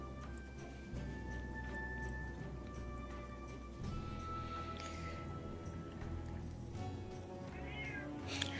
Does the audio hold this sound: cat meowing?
yes